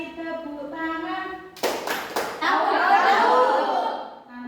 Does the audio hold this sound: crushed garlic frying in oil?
no